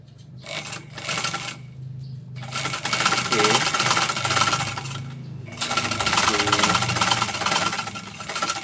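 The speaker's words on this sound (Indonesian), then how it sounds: "Kita buka, kemudian kita jahit dari dalam, ya." Sewing machine stitching the inside of a trouser pocket made without lining, a loud steady mechanical whir in several long runs with short pauses between them.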